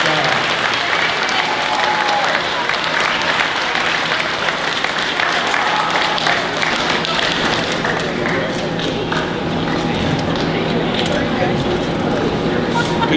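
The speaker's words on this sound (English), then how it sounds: "one more round of applause" Loud, sustained applause from an audience at a junior high school year-end awards ceremony, continuous clapping filling over thirteen seconds with a faint voice or tone running underneath.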